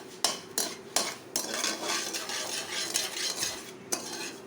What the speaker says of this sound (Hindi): इसको थोड़ी देर फ्राई करेंगे, सिर्फ उतना ज़्यादा नहीं करना ताकि मसाले भून जाएं।